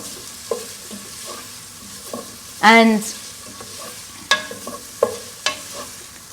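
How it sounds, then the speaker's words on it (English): Lamb on the bone sizzles and crackles in a hot pan, with occasional scraping and stirring clatters and a brief squeaky scrape partway through; no voices. "So we have got some nice sizzling here going on, which I'm loving."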